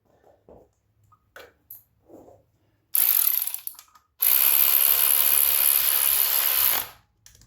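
Work on the cam chain of a 2022 Kawasaki KX450 motorcycle: a few soft clicks and taps, then two bursts of a ratcheting tool whirring, the second longer and steady, close up with no speech.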